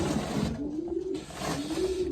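A racing pigeon imported from the Netherlands coos twice in low, rolling phrases, close by over a faint background hiss, with no talking.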